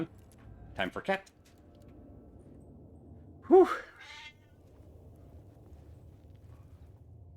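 A cat meows in the Alan Wake II video game, giving a short clear call mid-clip over faint ambient noise, with a few brief sounds shortly before it.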